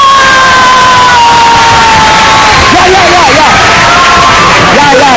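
A talk show studio audience claps and cheers during a comedy monologue, with loud, dense applause and scattered whoops filling the room throughout.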